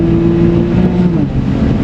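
A BMW 135i engine pulls hard under strong acceleration with the windows up, a steady, loud cabin drone with a clear rising tone and no talking.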